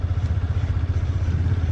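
A motorcycle engine chugs loudly and close up in a rapid, steady pulse while riding off-road through sand, with no talk over it.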